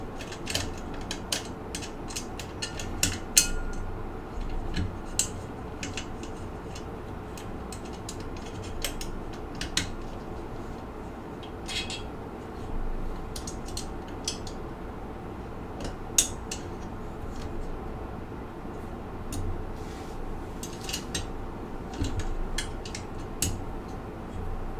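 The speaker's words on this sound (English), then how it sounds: "I have to use one of these regular Allen wrenches and turn it half a turn at a time." An Allen wrench turned in short increments during assembly of an LDO Voron Trident 3D printer, giving scattered faint metallic ticks and ratchet-like clicks over a quiet background, spread irregularly across the clip.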